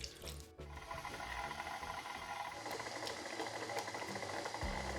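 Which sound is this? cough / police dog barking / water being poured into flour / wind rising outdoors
water being poured into flour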